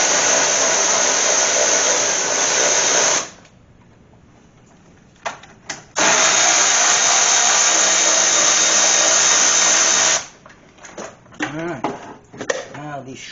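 A power tool takes bolts out of a radiator during a do-it-yourself collision repair. Two long, loud, steady whirring runs are broken by a quieter stretch of clinks and handling noises.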